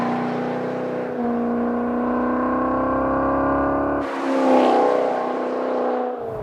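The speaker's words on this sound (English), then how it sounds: "You slide it in manual mode, and the exhaust opens up, and you just get a deeper, rich tone." A 2013 Maserati GranTurismo Sport revs in manual mode with its exhaust valves open, a deep rich engine note that holds steady, then swells in a sharper rev near the end before easing off. No one talks over it.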